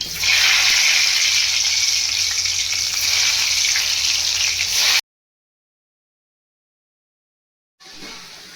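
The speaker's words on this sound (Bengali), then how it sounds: "প্রথমে আমি আলুটাকে ভেজে নেব।" Potato pieces fry in hot mustard oil in a wok with a loud, close, steady sizzle. It cuts off for about three seconds, then resumes.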